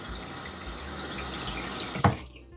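Water running from a tap during car detailing, a steady close rush that cuts off with a short knock near the end, leaving quiet.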